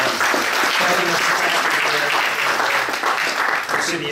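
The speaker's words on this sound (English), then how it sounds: "a big round of applause for Peter" A steady round of applause from a seated audience for Peter, dense and even throughout with no pauses.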